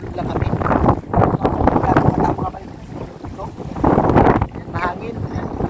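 Strong wind buffeting the microphone at a beach by the sea, gusting in loud bursts with a quiet lull midway, while people talk nearby.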